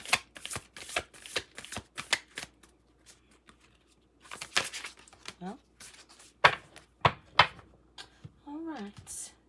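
A Moonology manifestation oracle card deck being shuffled up close, quick bursts of riffling and flicking card sounds in irregular clusters, with short pauses and a voice briefly humming or speaking toward the end.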